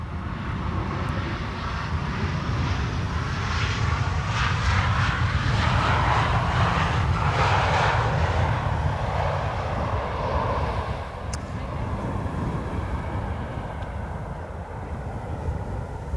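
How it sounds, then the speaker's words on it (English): A KLM Boeing 737-800 airliner on arrival at Amsterdam Schiphol, a loud sustained jet engine roar that swells and slowly fades as it passes, with no talking. "KLM flight 938 arriving from Glasgow,"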